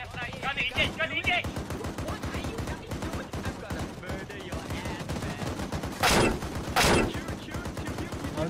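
Rapid machine gun fire aimed at a BTR armoured vehicle in a video game, long dense bursts of rattling shots at close range, with a couple of louder sharp blasts near the end and a voice talking partway through.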